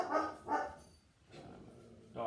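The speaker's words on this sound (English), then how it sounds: "Dog is barking." A dog barks a few times at a moderate distance: two quick barks, a pause, then further barking. The sound is fairly faint and heard on its own.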